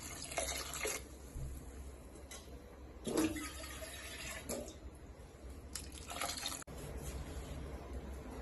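Water pours into a pot while jackfruit seed and cucumber curry is being made, a steady running splash with a few brief surges, close by and alone.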